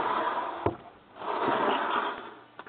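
A craft room drawer slides open or shut with a soft wooden rumble and a sharp knock, followed by a second sliding pass and another light knock, close by and quiet with no talk.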